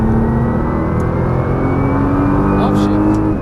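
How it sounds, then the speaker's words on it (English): A Nissan GT-R at full throttle on a race track, a loud, steady engine drone holding close and continuous throughout with a faint rising pitch and no break. "squeeze the throttle all the way out."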